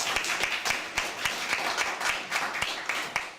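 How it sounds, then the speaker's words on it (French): An audience applauds with a dense patter of many hands clapping at a moderate distance, steady and continuous. "sous vos acclamations."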